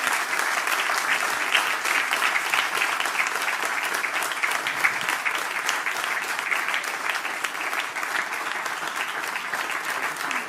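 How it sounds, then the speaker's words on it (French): A church congregation at an evangelical Baptist Sunday service applauds steadily and loudly, a dense continuous wash of clapping sustained for several seconds without speech. "J'aimerais que vous les applaudissiez."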